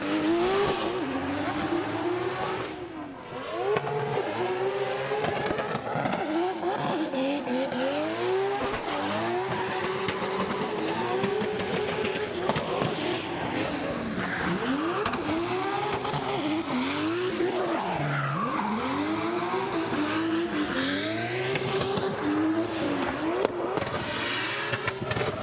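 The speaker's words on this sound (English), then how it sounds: "Obviously, that engine is pretty healthy." Rebuilt drift car engine at a D1NZ Pro-Sport drift round in Tairāwhiti, revving hard and bouncing off the limiter with screeching tire squeal, loud and continuous with repeated rising and falling pitch sweeps.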